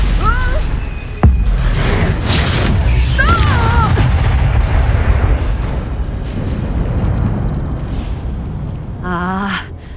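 Spell combat in Hogwarts Legacy, with a sharp cracking impact early on, rumbling blasts and shimmering magical whooshes, plus quick chirping effects near the end, all loud and continuous under vocal exclamations.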